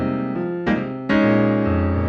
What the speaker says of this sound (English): if I'm playing a swing style, it's going to sound like this.